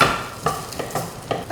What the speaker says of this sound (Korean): 된장이랑 들기름, 감자가 잘 볶아지게끔